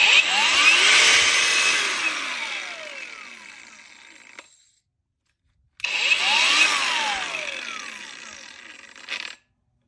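An Einhell cordless angle grinder switches on twice, each time spinning up to a loud whine and then braking quickly to a stop, with a brief silence between the two runs.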